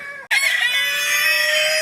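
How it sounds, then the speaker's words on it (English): Loud, agitated clucking and squawking from several farm chickens at once after heavy snow, a dense continuous racket that kicks in abruptly and carries on close by. "All these chickens were going wild"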